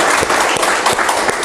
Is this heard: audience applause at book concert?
yes